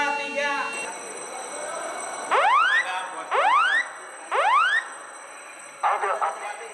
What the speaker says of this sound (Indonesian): jenang alarm diaktifkan dalam hitungan ketiga